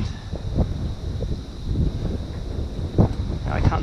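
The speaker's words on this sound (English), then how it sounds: "Go away wind." Gusty wind buffets a fishing boat on the Clarence estuary, rumbling against the microphone in uneven surges while people talk nearby.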